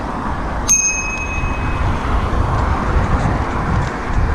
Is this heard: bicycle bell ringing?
yes